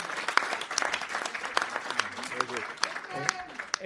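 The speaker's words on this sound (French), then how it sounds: "Moi, j'aimerais qu'on applaudisse bien fort Didier, le travail qu'il a fait." Audience applause at a general assembly of an association, a dense patter of many hands clapping steadily throughout, with voices and cheers mixed into the crowd noise.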